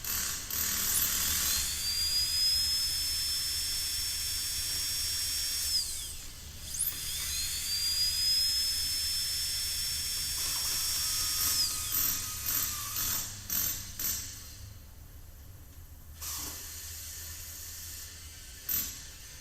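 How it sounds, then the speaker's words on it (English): A Dremel tool grinds away the inside of an engine sensor stuck in a manifold: a high-pitched whine that climbs as it spins up, cuts off, then starts again, followed by short scraping bursts. "use a Dremel tool to carefully grind away the ID of the sensor"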